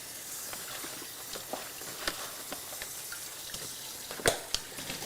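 Tap water runs steadily over spinach at a kitchen sink, a soft continuous hiss with scattered splashes and small clicks, one louder knock toward the end.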